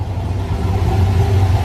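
A Chevrolet C6 Corvette idles steadily after running for some time, its engine giving a close, even low rumble without revving.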